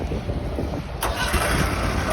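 A Trabant P601 Universal engine fires up at an auction in Florida, a sudden burst of raspy engine noise about midway after a quieter stretch, then running on close by.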